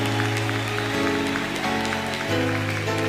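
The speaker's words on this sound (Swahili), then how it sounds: "Now you can lift your hands and clap them and shout for Jesus." A large stadium crowd at a healing crusade claps steadily and cheers, a dense continuous wash of applause with sustained music tones running underneath.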